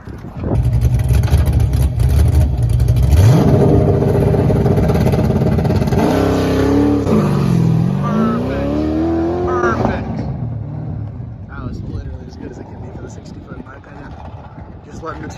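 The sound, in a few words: car launching with two-step rev limiter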